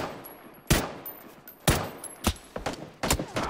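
Gunfire in the battle royale game PUBG: several sharp shots ring out at irregular intervals, with a quick burst of rapid rounds near the end, fairly close and with no talk over them.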